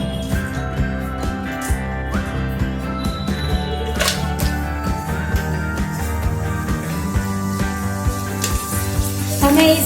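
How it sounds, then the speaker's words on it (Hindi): Sweet potato wafers fry in hot oil, giving a steady, dense sizzle that runs continuously at close range, with a stir or clatter near the end. "तो मैं इसी में सारी वेफर को फ्राई कर लेती हूँ।"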